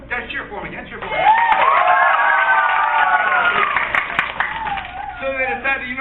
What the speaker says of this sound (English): cheer for me again. Cheer for me.